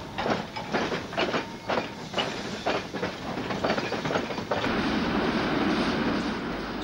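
Two steam locomotives, an 0-8-0 well tank and a Romanian-built engine, working a narrow gauge train north of Bucharest, with rhythmic chuffing beats giving way to a steady loud hiss and rumble.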